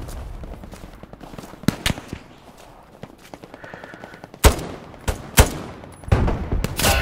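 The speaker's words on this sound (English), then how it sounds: "Oh, we're getting shot at." Gunfire in the WWII shooter Hell Let Loose comes as scattered sharp reports, some distant and some near and loud, with bursts of automatic fire during a 30 versus 30 battle.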